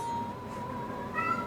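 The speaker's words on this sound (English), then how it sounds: "you can probably hear the cat in the background" A faint cat meow drifts from somewhere in the room, thin and drawn out, over a steady background hum with no talking.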